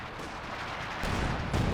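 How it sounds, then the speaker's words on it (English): Cannon fire from a Panzer IV tank in the video game Company of Heroes 2 comes as heavy booming blasts over a dense rumble of battle, with a second thump near the end. "Nice shot with the Panzer IV. Kills the American infantry trying to take that."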